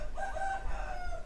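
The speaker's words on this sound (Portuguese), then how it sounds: "tem uns galos, não sei se tá pegando, mas provavelmente aqui tá pegando" Roosters crow in the distance, one drawn-out cock-a-doodle-doo over a low background rumble, moderately loud and with no talking over it.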